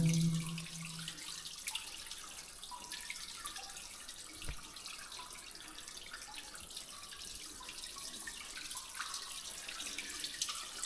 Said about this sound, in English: Seeing the water dripping there.